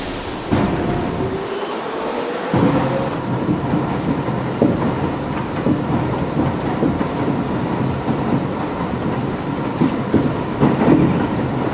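An R62A subway train on the 3 express in the Trainz video game rumbles steadily along the tracks, with a continuous low roar and faint rhythmic clicks of wheels over rail joints, close and loud.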